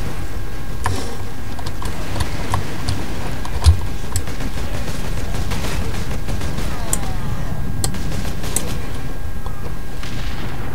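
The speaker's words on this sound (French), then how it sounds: "J'essaie de lui faire des tirs en pleine tête." Gunfire and booming blasts from the video game Space Marine ring out repeatedly in irregular bursts among mechanical clanks, with one sharp louder impact early on; no talking.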